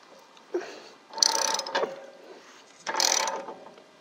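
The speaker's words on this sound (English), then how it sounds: "And then you get your ratchet and tighten it up." A ratchet tightens the anode rod on an RV water heater, two short bursts of close, quiet ratcheting clicks with a pause between them.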